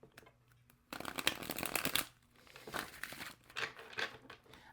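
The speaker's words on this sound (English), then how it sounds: "So let's shuffle like this one more time." Cards being shuffled up close, a quick riffle burst followed by softer rustling, papery flicks and slides.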